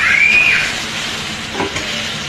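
Fried potatoes tossed into a pan of spices for aloo dum, giving a brief, loud, steady sizzle and hiss with light stirring, close up and without speech.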